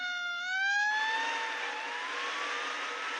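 A fire truck siren in a modded Minecraft game wails close and loud, its tone rising and sliding, then smoothing into a sustained electronic whine over a steady engine-like hum.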